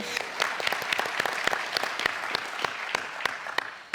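Sparse, light clapping from a small group, individual claps distinct and uneven, fairly close, lasting a few seconds with no talking.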